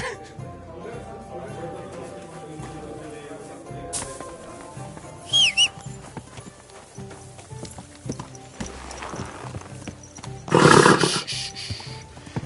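Horse in the medieval video game Kingdom Come, with soft hoof clops and a brief animal snort amid game ambience, moderately close, along with bursts of louder noise.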